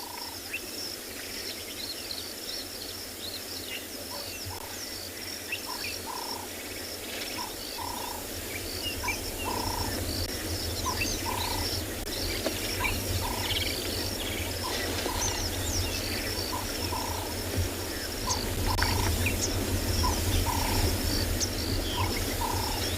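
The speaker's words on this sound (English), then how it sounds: "all you hear in the background, all bird sounds and all of it, since the rain stopped" Birds call and chirp at a safari site after rain, repeated short calls scattered over a dense bed of insect and frog chorus, moderately distant and continuous with no talk.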